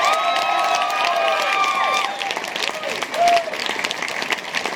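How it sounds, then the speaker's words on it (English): Concert crowd at a gig clapping and cheering loudly, with whistles and whoops riding over the steady applause throughout. "give him a round of applause right now"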